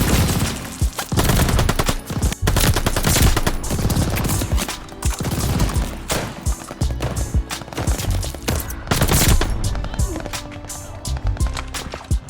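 Call of Duty Vanguard gameplay fills the mix with dense, rapid bursts of gunfire and a shotgun blast in among them, loud and close, with footsteps and a voice talking underneath.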